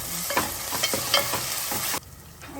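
Ginger garlic paste frying in a pan, close crackling sizzle with repeated scraping stirs, alone, cutting to quieter background near the end.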